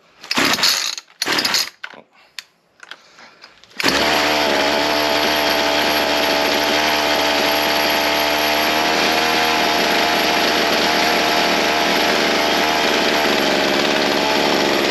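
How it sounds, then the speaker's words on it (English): A Ryobi C4618 chainsaw roars to life after a few short pulls and bursts, then runs loud and steady at a high idle as its carburetor idle is adjusted, a continuous close engine drone with no talk over it. "I'm gonna fire it back up, and I'm just gonna turn it I'll open it up more, and I'll find that sweet spot"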